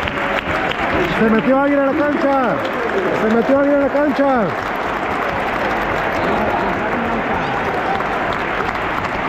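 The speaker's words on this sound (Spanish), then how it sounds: "la ovación." A packed Camp Nou stadium crowd roars and cheers at Piqué's last match, a loud continuous wall of noise with chanted voices rising in the first half, and someone speaking over it up close.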